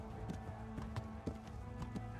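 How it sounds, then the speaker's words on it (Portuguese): Horses galloping in the Kingdom Come: Deliverance video game, a rapid rhythmic clip-clop of hooves, faint and steady under a droning background of game ambience. "Mais cavalos vindo."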